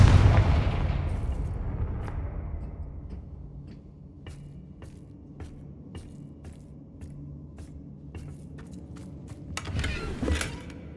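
Spell explosions from Bombarda and Confringo in Hogwarts Legacy, a heavy low boom at the start that rumbles away, followed by sharp scattered crackling impacts and a second burst near the end.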